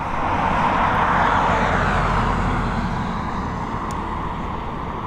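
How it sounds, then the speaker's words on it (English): An ATR turboprop on final approach at Dublin Airport gives a continuous broad engine roar with a low rumble that swells slightly and then eases as it passes at a moderate distance. "We've got an ATR on its final."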